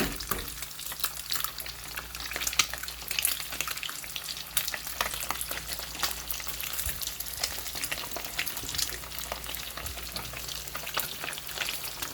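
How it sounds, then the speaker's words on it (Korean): Eggs and Spam fry in a pan with a dense, continuous crackling sizzle, close and fairly quiet, dotted with small pops throughout. "정도 노릇노릇하게 익었으면 계란을 넣어줍니다."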